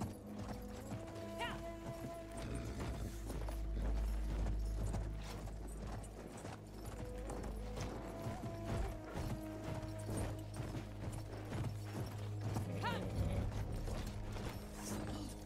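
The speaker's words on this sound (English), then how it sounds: "Let me get off the horse, please." Horse hooves pounding in the video game Battlefield 1, a steady run of clip-clop beats mixed with mechanical rattling, creaking tack and game music over a low rumble.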